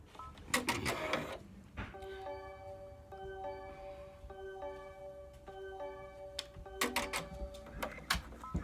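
An embroidery machine stitches a shirt with clustered mechanical clicks and thumps at the start and end, and a steady whirring hum with repeated tonal chatter in between, heard up close.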